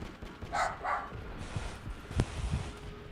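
A dog in the Call of Duty video game barks twice in quick succession near the start, then fainter game noise and a sharp thud follow, with no talk over it.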